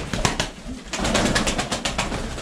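Pigeons coo softly and repeatedly at close range, a murmuring run of rhythmic calls with faint rustling around them and no talk.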